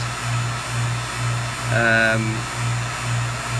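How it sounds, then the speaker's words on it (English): A vacuum pump runs with a steady, pulsing low hum throughout while making a hybrid blank, and a brief higher tonal sound rises over it near the middle. "Now we're ready to go ahead and turn off the pump"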